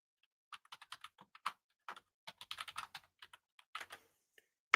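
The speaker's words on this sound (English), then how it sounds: "I can type it in right here." Keys clack on a computer keyboard in quiet, irregular bursts of close, crisp taps, alone with no talking.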